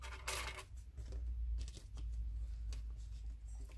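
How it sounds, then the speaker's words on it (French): Scissors cutting a piece of handmade paper background made with Distress Oxide inks, a few crisp close snips and paper rustles over a steady low hum, with no talking. "je vais couper un bout dans mon fond fait main"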